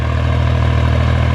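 A big John Deere tractor engine runs steadily nearby, a loud, even low rumble with a faint mechanical clatter layered on top, continuous with no voices.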